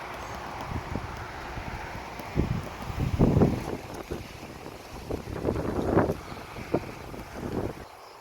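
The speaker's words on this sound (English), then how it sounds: "Sorry about the wind." Gusty wind buffets the microphone outdoors in a rose garden in low rumbling bursts, with a steady hiss of outdoor air behind it and no voices.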